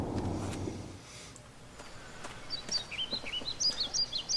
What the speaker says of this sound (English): Kinda weird the birds are circling over on top of here.